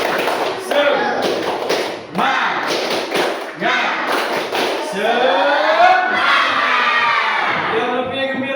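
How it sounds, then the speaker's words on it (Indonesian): A group of children doing the Indonesian tepuk semangat spirit clap, led by a man, with sharp rhythmic claps in bursts, mixed with shouted chanting and cheering, loud and lively. "Oke, tepuk semangat. Semangat."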